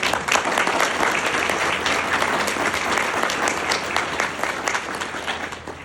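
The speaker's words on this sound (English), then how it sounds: "if I can have an applause for them in the back" An audience at an MLK freedom breakfast gives a loud, sustained round of applause for a youth group, many hands clapping densely and steadily from start to finish.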